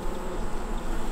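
Close, steady buzzing hum of honeybees in a weak hive afflicted by varroa mites, a continuous droning texture with no voices.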